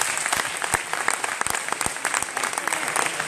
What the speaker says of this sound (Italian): Andiamo avanti con un grandissimo applauso a Adinolfi Raffaele